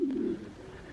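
Young pigeons in a loft coo with a short, low, soft call followed by faint, quiet background sounds.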